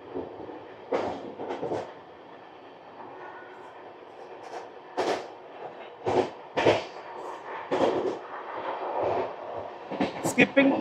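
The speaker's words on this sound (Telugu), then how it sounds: "ట్రైన్ వచ్చేసరికి 110 స్పీడ్లో ఉంది, సారీ 105 స్పీడ్లో ఉంది" Deccan Queen Express running through a Western Ghats tunnel at around 105 km/h, a low hollow rumble broken by repeated sharp bursts of clatter, with a voice talking over parts of it.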